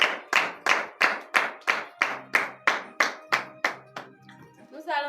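Members of a church congregation clap in a steady beat during a morning prayer service, about a dozen sharp, evenly spaced claps with a ringing tone beneath, ending as a voice begins.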